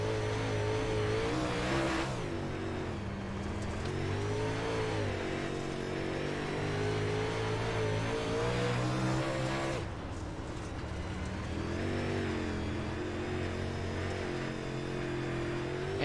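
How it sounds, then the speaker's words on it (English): UMP modified race car engine on a dirt track at Limaland, loud and continuous, the throttle rising and falling through repeated revving surges with a brief lift-off near the ten-second mark before accelerating again. "Listen to the throttle control."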